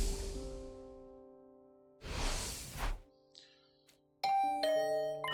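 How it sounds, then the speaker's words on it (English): Two-tone ding-dong doorbell chime in the video game The Hundred Line: Last Defense Academy, rung twice with clear tonal strikes and decaying tails, followed by brighter chiming game tones; no voices. "Was that my doorbell?"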